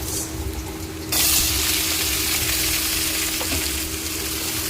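Potatoes frying in hot oil with spices for a hilsa fish dish, a steady sizzle that jumps louder about one second in as the potatoes go in, then holds a continuous crackling hiss with faint stirring.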